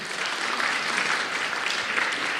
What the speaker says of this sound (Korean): 박수 한번 주세요, 빨리요